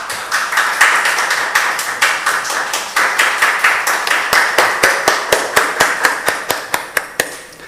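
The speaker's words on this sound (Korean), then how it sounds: "우리 다 같이 박수합시다." A church congregation at a Sunday service claps, first in a dense, loud burst, then settling into slower, sharp rhythmic claps close by that gradually thin out.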